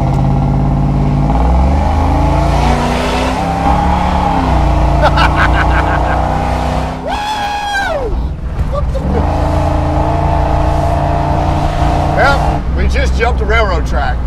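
A supercharged Jeep Grand Wagoneer engine roars loudly and steadily under hard acceleration, its pitch rising and falling through gear changes, with people talking over it inside the cabin.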